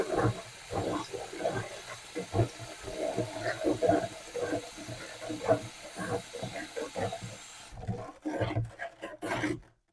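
Water runs steadily from a tap into a jug for a purifier-granule sanitising solution, with a splashing, gurgling sound, accompanied by light clinks and handling noises.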